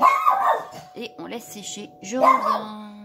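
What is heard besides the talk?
dog barking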